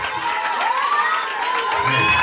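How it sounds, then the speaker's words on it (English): A church congregation cheers and shouts in praise, a loud close crowd of voices with rising whoops and scattered clapping mixed in. "why don't you clap your hands and start praising him?"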